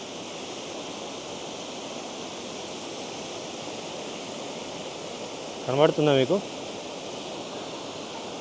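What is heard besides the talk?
waterfall in the Black Forest, Germany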